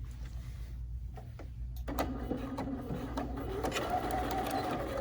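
A sewing machine stitching a quarter-inch seam with a quarter-inch presser foot, heard close up as a quiet intermittent whir. It turns into a steadier, louder mechanical hum in the second half, with no talking.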